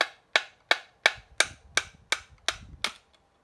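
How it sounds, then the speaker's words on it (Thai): Nine sharp metallic hammer taps ring out at a steady pace, about three per second, as a bearing is knocked out of a 5200-model chainsaw's magnesium crankcase; close and crisp, with brief rattly decays between strikes and no talking. "เดี๋ยวเราก็ ตอกไปเรื่อยๆครับเพราะว่าเราใช้เป็นค้อนอย่างนี้มันไม่เสียครับ"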